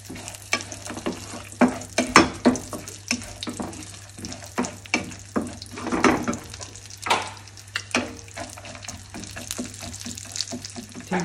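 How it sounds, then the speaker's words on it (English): Broken almonds and cashews fry in hot oil while being stirred, giving a steady sizzle broken by repeated scraping and clattering strokes in an irregular rhythm, close and fairly loud. "We add the almond, broken almonds, and cashews, and fry it nicely to golden brown."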